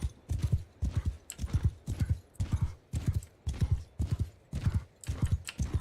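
Horse hooves clip-clop in a steady, galloping rhythm from Mount and Blade II: Bannerlord, repeating beats throughout, fairly close and distinct with no talk over them.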